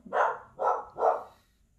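A dog barks three times in a steady, evenly spaced run, close and fairly loud, with quiet after the last bark and no talking.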